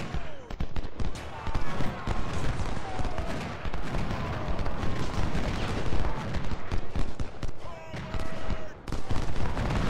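Massed musket and cannon fire crackles through a Civil War battle in Ultimate General: Civil War as troops shoot at cavalry, dense overlapping volleys and sharp reports rolling on without a break.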